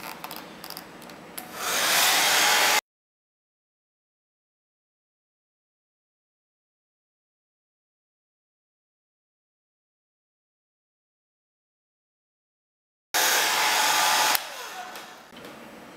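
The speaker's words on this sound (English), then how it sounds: "So take your hairdryer, put it on the hottest setting you can get it on." A hair dryer on its hottest setting heats the screen of an iPhone 3G or 3GS, blowing loud and steady for a few seconds, then going silent for about ten seconds before roaring again, with no voices.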